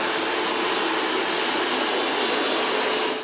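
Roborock Qrevo Master robot vacuum running at maximum power gives a steady, loud, broadband whooshing roar that holds constant from start to end, with no voices.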